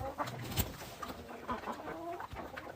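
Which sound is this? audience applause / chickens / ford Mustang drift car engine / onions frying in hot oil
chickens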